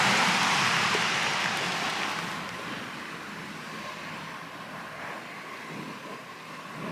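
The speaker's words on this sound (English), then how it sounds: "The rain's starting to ease off a little bit now." Steady rain falls outdoors, a dense continuous hiss that is loudest at first and then eases slightly to a softer, even wash, with no voices.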